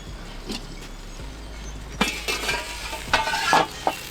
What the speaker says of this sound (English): I can hear my sizzle getting a bit aggressive.